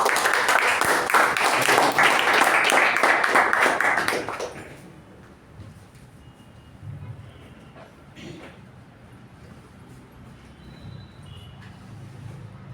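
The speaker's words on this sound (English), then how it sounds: "With a huge round of applause, let's welcome Toastmaster of the Toastmaster Prashant." Applause from a Toastmasters meeting audience welcoming the evening's Toastmaster, dense clapping for about four seconds that stops abruptly, leaving a quiet room with faint scattered noises.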